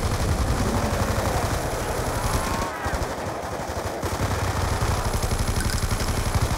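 Rapid automatic gunfire in a zombie shooter game, loud continuous bursts of rattling shots with a short pause in the middle, dense and close throughout.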